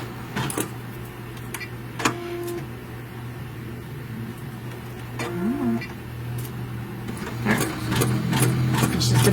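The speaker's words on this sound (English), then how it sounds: "what it's going to sew next is kind of a tack down. It's going to go straight down the middle here" An embroidery sewing machine runs a straight tack-down basting line down the middle of an in-the-hoop project, a steady low mechanical hum with rapid stitching and a few clicks, rising slightly toward the end, with no talk.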